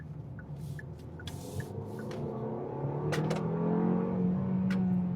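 A 2025 Kia K4 turbo sedan accelerating, heard from inside the cabin as a moderate engine drone and road rumble that builds smoothly and steadily, with a few light clicks along the way.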